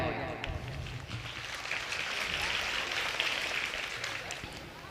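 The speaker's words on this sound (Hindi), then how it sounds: "मैं अपनी पूरी कोहिनूर एकेडमी ग्रुप के तमाम मेंबरों के लिए आप हजरात से गुजारिश करता हूं कि ज़ोरदार तालियां हो जाएं" A seated audience at a Kohinoor Academy group gathering in Waleedpur, Mau, breaks into loud, sustained applause, a dense steady wash of clapping that holds evenly for several seconds.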